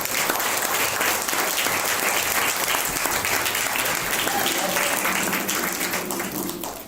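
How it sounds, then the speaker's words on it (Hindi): Sustained, loud applause from a church congregation gathered in a hall, a dense even clapping that holds steady for several seconds before easing slightly at the end. "आज तालियों की गूंज सुन के"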